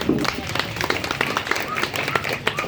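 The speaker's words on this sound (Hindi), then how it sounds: "जोरदार तालियां" An audience breaks into sustained applause after a spoken address, a dense patter of many hands clapping at close range, mixed with voices.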